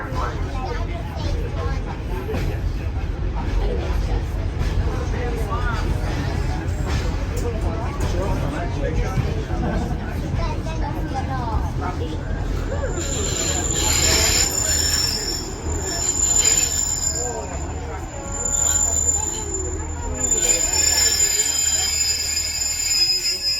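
A Pacer train departing Butterley station on the Midland Railway rumbles steadily with repeated high wheel squeals, heard from inside the carriage with some voices underneath.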